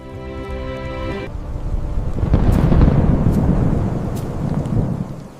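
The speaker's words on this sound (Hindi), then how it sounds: "ये अचानक तूफान कैसे आ गया?" A sudden village storm: a held tonal chord gives way to deep rolling thunder and gusting wind noise that swell and stay loud, with sharp cracks breaking through before fading slightly.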